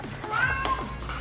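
A pet cat meows twice indoors near an open patio door, one drawn-out call followed by a shorter one, close and fairly clear over a steady room hum.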